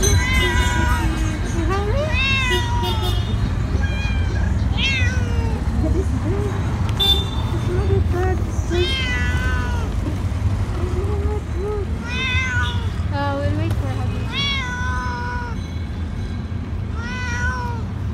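Starving, sick cats meow repeatedly for food, their plaintive cries coming close and in irregular bursts over street noise with occasional car horns and a crowd murmur in the background.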